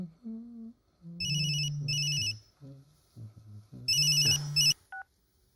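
A telephone ringtone sound effect on a children's history game show: several bursts of bright electronic ringing with short gaps, clear and close, with no talk over it.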